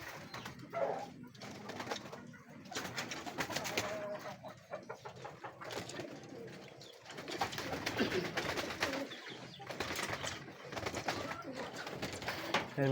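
Young racing pigeons coo at a loft, one blue bar and one with a white feather perched on the roof, their soft repeated calls steady throughout over rustling and faint background noise.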